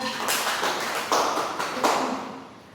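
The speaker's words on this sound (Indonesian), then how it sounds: "Beri tepuk tangan kemana dong?" Classroom applause from students, a dense burst of hand claps that swells in a few waves and then tapers off, fairly close and moderately loud with no talking.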